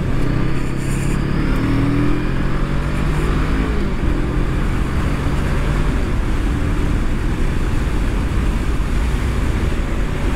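A Honda Rebel 500 motorcycle accelerates for an overtake, its engine drone climbing in pitch under heavy, continuous wind rush close to the rider.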